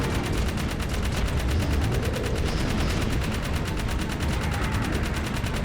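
Sustained rapid gunfire in the video game Jak 3, a dense continuous burst of repeated shots with no talk over it.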